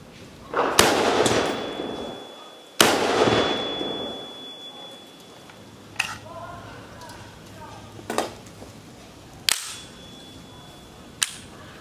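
5.56 rifle rounds are fired at a Militech level 4 armor plate outdoors, two loud sharp reports early followed by several fainter cracks and impacts spaced apart, with speech in between.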